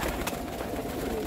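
Sialkoti flying pigeons give a brief, soft coo set against steady background noise.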